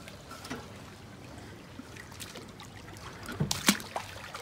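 Someone wading into shallow lagoon water in the Maldives, faint trickles and soft splashes with a sharper slosh near the end, quiet and close.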